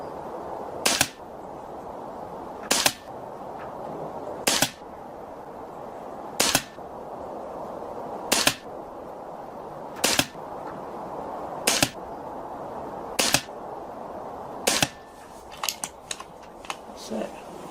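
A Hatsan Nova Star air rifle fitted with a shroud fires pellets in nine sharp, close cracks, evenly spaced roughly two seconds apart, with faint rustling and handling noise between them.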